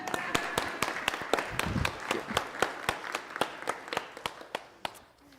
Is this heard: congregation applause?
yes